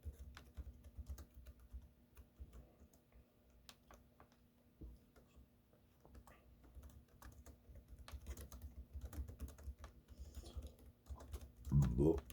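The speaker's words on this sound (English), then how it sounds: "I'm just typing this in because I'm just typing stuff in Google Translate." Fingers type on a computer keyboard, entering text into Google Translate: quiet, rapid, irregular key taps over a faint low hum in a quiet room.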